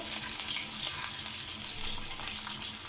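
Goat liver sizzles and fries steadily in a tawa pan with ginger garlic paste, a close, continuous crackling hiss without a break.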